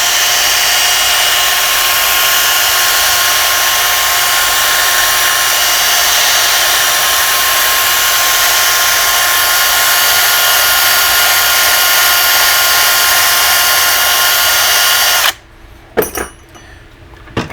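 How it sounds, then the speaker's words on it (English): A wire brush spun by a drill scours a MetalCloak control arm, a loud steady whirring grind running for about fifteen seconds before cutting off into a few short bursts and clatters. "take your wire brush on your drill and just start going at it"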